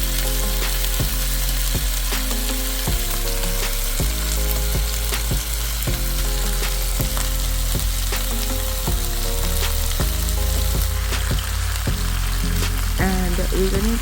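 Oxtail pieces fry and sizzle in a pot for Jamaican-style oxtail, a steady loud crackle running throughout with occasional stirring and clinks, while a strong low rhythmic music track plays underneath.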